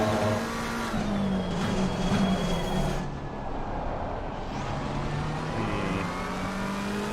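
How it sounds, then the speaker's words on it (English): Race cars queued nose to tail at Misano in a racing video game, with steady engine drone and shifting pitches from several cars running close together throughout, with no voices. "Really nice queue of cars here."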